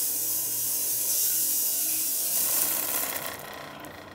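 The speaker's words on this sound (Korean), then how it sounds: "기계를 잠시 멈춘 다음에 설탕을 넣고 다시 작동을 시키면 2, 3분 후에 실 같은 솜사탕이 나오기 시작합니다." A small home cotton candy machine spinning sugar gives a steady close whirring hiss with a rattling mechanical edge, easing off slightly toward the end.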